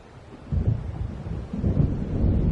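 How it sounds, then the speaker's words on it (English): Deep rolling thunder from a storm in the video game Alan Wake Remastered, two swelling rumbles close together with a low steady wash beneath, no voices. "It seems there's a storm coming."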